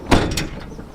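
A Citroen Relay camper van door opens with a short, close mechanical clunk and latch rattle, followed by a softer sliding rumble that fades out.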